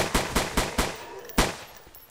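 Five sharp pistol shots from the survival video game Survive the Nights, four fired in quick succession and a fifth after a short pause, each crack trailing off with a fading tail, loud and close with no talking.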